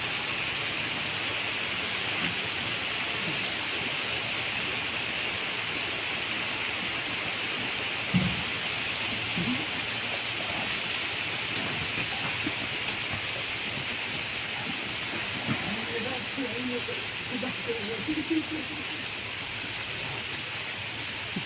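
Steady rain pours down in Scotland, a dense, even hiss filling the whole stretch with a few soft low thumps and patters standing out near the middle and toward the end.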